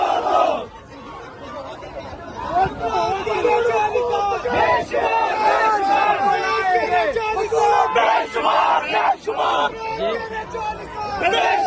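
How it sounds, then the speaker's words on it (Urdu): Supporters of Pakistan Tehreek-e-Insaf, young men and women, shout slogans outside a court after a verdict. Rhythmic chants and yells rise from a close, dense crowd, with chatter mixed in throughout. "یہ دیکھ سکتے ہیں نعرے بازی جاری ہے"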